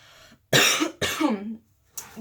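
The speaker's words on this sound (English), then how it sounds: "I'm coughing." Two short, sharp coughs in quick succession, close and fairly loud, followed by a brief start of another.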